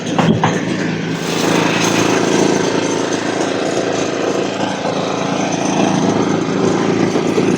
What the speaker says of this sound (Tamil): கரும்பு சக்கையா புளிஞ்சு ஜூஸ் போடுறதுன்னா இதுதான்.